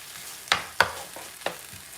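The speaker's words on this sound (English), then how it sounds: "And then we're just going to stir that all up." Egg whites are stirred in a hot pan, a soft sizzle broken by three or four sharp scrapes of the utensil against the pan, close and fairly quiet, with no talking.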